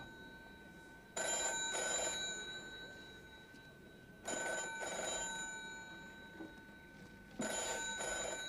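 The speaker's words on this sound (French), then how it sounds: "votre téléphone sonne sous le coussin" A telephone hidden under a cushion rings in three separate bursts of trilling bells, each lasting about a second, with quiet pauses between them in an indoor room.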